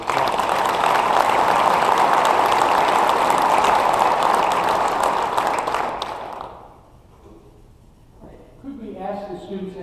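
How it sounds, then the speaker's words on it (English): Audience applause for staff at a National Fire Academy Executive Leadership graduation ceremony, a dense, steady wash of clapping from a large crowd that fades out after about six seconds, then a speaker begins talking. "can we give those staff members a round of applause?"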